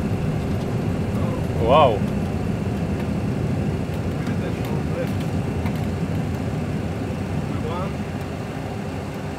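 Airliner engines spooling at takeoff thrust, a steady broad roar heard from inside the cockpit of a Boeing 737, with a brief exclamation from someone aboard.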